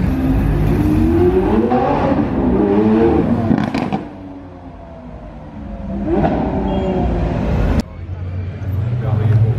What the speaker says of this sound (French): Donc là on a une Lamborghini performante jaune avec un G jaune,